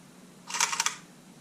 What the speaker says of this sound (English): that shutter sounds really loud for some reason